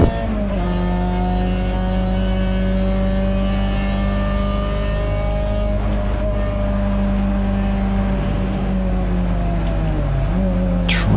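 Peugeot 206 GTI racing in wet conditions at Donington Park, engine droning loud and steady from onboard with gear changes and pitch shifts, tyre hiss throughout.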